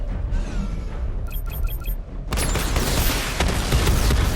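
Missile barrage explosions in the Batman Arkham Knight video game: a rumbling stretch with a few electronic beeps, then a dense, loud burst of blasts and crackling debris that carries through to the end.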